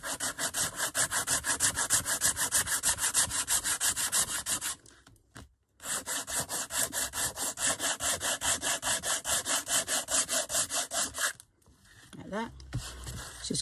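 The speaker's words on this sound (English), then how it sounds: "Because I am sanding this down now." Rhythmic rasping strokes of an emery board sanding down a painted cover with crackle paste, back and forth, close up, in two long runs separated by a brief pause.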